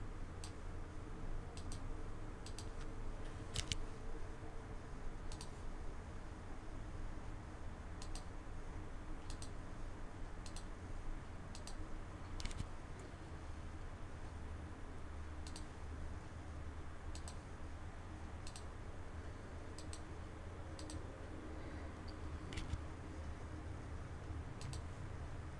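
A computer mouse clicking steadily while working in geodesic dome modeling software, crisp isolated clicks at irregular intervals over a low continuous hum.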